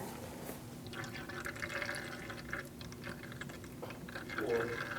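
Brake fluid flowing from an opened bleeder valve on a 2008-2014 Mercedes-Benz C300 front brake, a faint trickling and dripping heard in a quiet garage.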